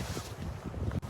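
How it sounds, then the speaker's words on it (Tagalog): Gusty wind buffets the microphone outdoors on a cold, slippery walk, making a steady broadband rumble with a brief dip near the end. "naririnig nyo ba yung hangin? Mahangin siya guys"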